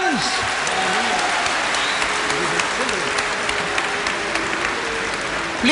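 Audience clapping during a religious debate on whether Jesus is God, a continuous steady wash of applause from a large crowd lasting several seconds, with faint voices underneath.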